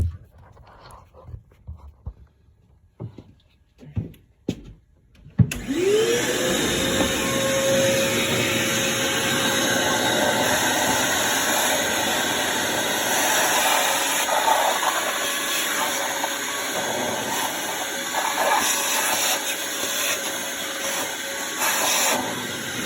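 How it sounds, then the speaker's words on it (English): A shop vac starts abruptly and runs loud and continuous, a steady roaring whine with hiss, while sucking water out of the tank of an Antunes DFW-150 unit after a few clunks of handling. "there's some water in the tank, so we're gonna vacuum that out with a shop vac"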